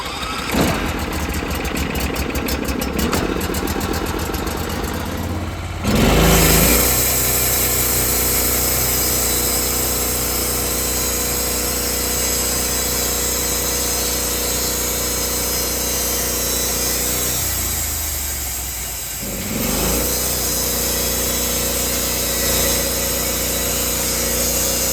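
A sawmill cuts into an ugly, gnarly log, its engine running loud and steady throughout, with a brief drop around the midpoint and near twenty seconds as the load changes.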